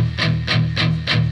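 Distorted electric guitar in drop D with the palm resting too near the pickups, giving dull, choked low chugs: four even downstrokes in quick succession that sound muffled and boomy, loud and close with no voice over them.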